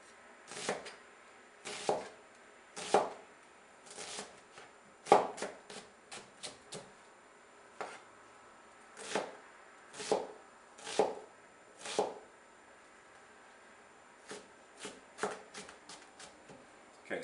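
Onion being chopped with a knife for a Greek salad: a quiet series of quick blade taps against a board, coming in short irregular bursts with pauses between them, close by and fairly faint.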